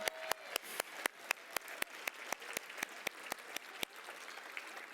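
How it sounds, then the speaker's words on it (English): Audience applause at a community champions celebration, a steady run of sharp claps from a crowd, with prominent individual claps at a regular rhythm over a softer wash of clapping that fades slightly toward the end. "We need a separate round of applause"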